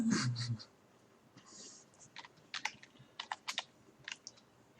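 Computer keyboard typing, heard as scattered bursts of fast clicks separated by pauses, fairly close and moderately quiet, with a louder thump at the start.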